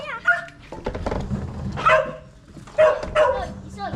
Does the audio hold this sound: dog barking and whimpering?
yes